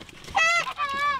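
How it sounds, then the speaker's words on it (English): A lone goose gives a single drawn-out honk outdoors during a youth waterfowl hunt, loud and close, a two-part nasal call that rises and falls over about a second. "There's a single goose behind us."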